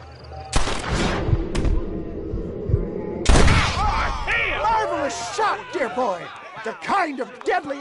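Gunfire in the video game Red Dead Redemption, with two loud, booming shots that ring out sharply, followed by shouting voices and in-game dialogue.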